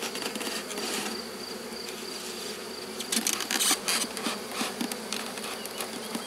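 Honeybees drone loudly and continuously at an open hive during a colony check and transfer, a dense close buzz that swells slightly midway, with faint knocks of wooden frames beneath.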